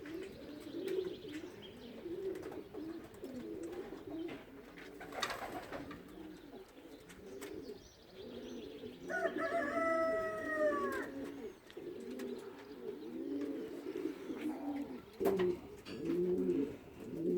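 Several pigeons coo in low, rolling bursts throughout, close by, with a few brighter chirps and calls rising over them midway.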